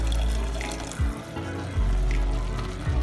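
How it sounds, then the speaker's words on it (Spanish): Half a cup of water is poured into cooking rice, a continuous close splashing pour with low bubbling gurgles and a few soft knocks, steady throughout and alone. "A este arroz le agregamos media taza de agua"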